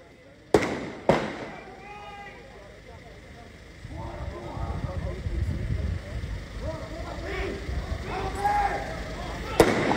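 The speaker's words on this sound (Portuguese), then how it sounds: "Para você que está na Zona Oeste de Natal ouvindo explosões, uma simulação a um assalto à empresa de capa forte" Explosive bangs from a police bank-robbery simulation drill at a cash-transport company in Cidade da Esperança, Natal: two sharp blasts early, then rumbling booms and a rolling, crackling roar, with a final sharp crack at the end.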